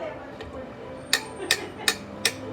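A hand taps out a rhythm in four crisp, evenly spaced knocks over a soft steady hum, close and fairly quiet.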